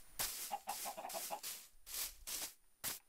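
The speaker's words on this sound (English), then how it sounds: "here's a chicken and an egg" A chicken in the Minecraft video game clucks in a series of short, bright bursts, around seven in quick succession with brief gaps, clear and isolated without any talk.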